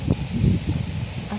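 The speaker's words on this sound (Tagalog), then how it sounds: "Ang lakas ng hangin, muntik nang baliktarin yung ano ko" Strong wind gusts around a house in a storm, a low, rumbling buffeting that presses close and steady for a brief moment, with no other sound standing out.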